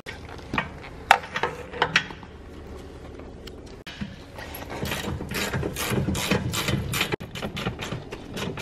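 A ratchet works an 18mm bolt loose from the lower mount of a rear shock on a BMW E46 under coilover installation, first in a few loud isolated clicks, then in fast continuous ratcheting bursts, close and with no speech.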